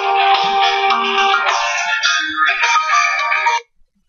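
Phone ringtone playing loudly and close for about three and a half seconds as a continuous electronic melody, then cutting off abruptly into silence.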